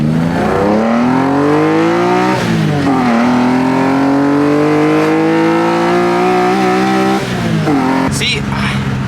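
A BMW E30 with an S54 engine swap and a 4.10 limited-slip differential accelerates hard, its engine revving up loudly through rising pitch, dropping briefly at gear changes, then climbing again, close and dominant.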